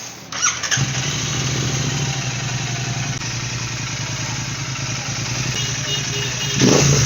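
A Royal Enfield GT 650 engine idles steadily at close range after its throttle body was replaced, holding an even, continuous rumble throughout with no voices.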